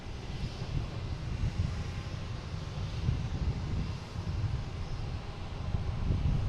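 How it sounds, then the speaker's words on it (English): A Condor airliner lines up on runway 9 at Boston Logan International Airport, giving a steady, distant low rumble of jet engines mixed with light wind and no talking. "We have Condor lining up on runway 9, not taking the 4 right longer runway."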